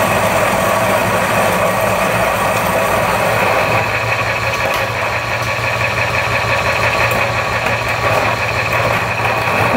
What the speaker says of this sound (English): Pop this one in the grinder.